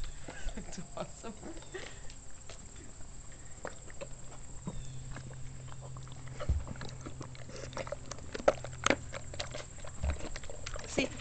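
A dog laps and slurps at its food up close, with a quiet string of wet smacks and irregular clicks and a soft background hum.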